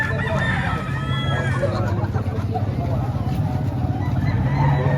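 A rooster crows at the Padre Garcia livestock market, a short crow heard amid crowd babble and steady background noise, with someone talking throughout.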